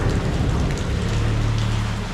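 Steady heavy rain pouring down, a dense continuous hiss of drops on surfaces, loud and close with no talking.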